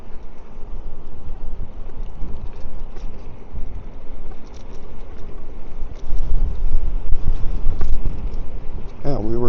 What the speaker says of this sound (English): she's pretty breezy, so this will be a good test for the DJI Mic 2.